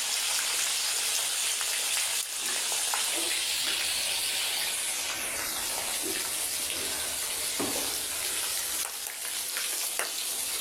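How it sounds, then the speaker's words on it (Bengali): Pangas fish frying in a pan in a home kitchen, a loud continuous sizzle and crackle of hot oil, close and steady throughout with faint clinks, no voices over it. "আর এদিকে পাঙাশ মাছ ভাজি হচ্ছে"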